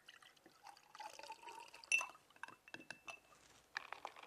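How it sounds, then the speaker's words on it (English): Citrus punch is ladled into glasses, with soft liquid pours and light glass clinks in short, irregular bursts, close and quiet. "using a ladle, we can pour the citrus punch"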